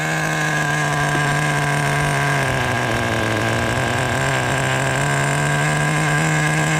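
A Team Losi XXX-NT nitro RC pickup truck engine running steadily at a loud, close, buzzing idle, unbroken for the whole stretch with no talk.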